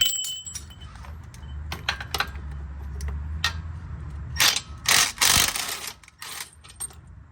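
Metal bolts being pulled from a car transmission while working on a garage floor, with a string of sharp metallic clicks and clinks, a steady low rumble early on, and a louder clattering burst near the end.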